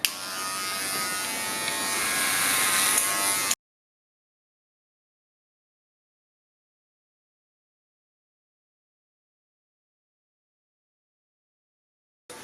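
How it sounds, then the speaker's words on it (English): A Wahl cordless Magic Clip hair clipper with a number 2 guard buzzes steadily and close while cutting hair for about three and a half seconds, then cuts off into silence. "Now I'm switching over to my Wahl cordless magic clips with my number 2 guard on"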